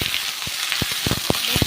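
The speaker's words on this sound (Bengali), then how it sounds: "ভালো করে ভেজে নেব।" Chopped onions fry in a pan with a constant bright sizzle, broken by several sharp scrapes and taps of a stirring spoon.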